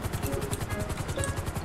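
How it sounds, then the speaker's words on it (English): Helicopter in the video game GTA 5, a loud, close, rapid rhythmic rotor thumping that continues steadily throughout. "Does anyone want a helicopter ride?"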